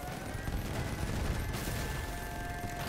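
Minigun fire in a shooter video game roars as a continuous dense rattle of rapid shots for the whole stretch, loud and unbroken with no talk over it.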